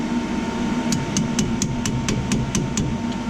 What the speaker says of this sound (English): Just loosening that fitting up.